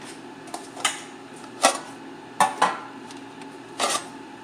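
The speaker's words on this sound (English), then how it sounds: "so get your bread pans out." Metal bread pans for a whole grain loaf are handled on a kitchen counter, giving several sharp clanks and clatters at uneven intervals, close and fairly clear, with no talking.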